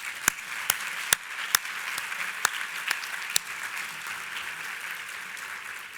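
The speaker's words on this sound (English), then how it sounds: "So give yourselves a round of applause" Audience applause at an All-American City Awards gathering, a steady wash of many hands clapping with several sharp, close claps punctuating the first half.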